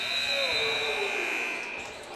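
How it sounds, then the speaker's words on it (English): A loud, sustained buzzer sounds at the end of a quarter at a varsity high school basketball game, Smoky Mountain at Franklin, droning steadily under crowd noise before fading slightly toward the end. "At the buzzer."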